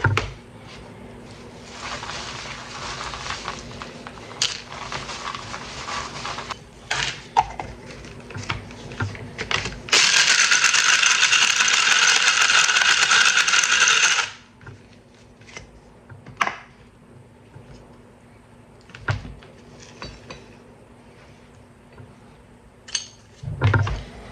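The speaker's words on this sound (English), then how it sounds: "I feel like I need to grind some of those some more." Dinner mints being ground in a kitchen appliance, a loud steady whirring burst of about four seconds in the middle, surrounded by quieter clicks, taps and handling noises.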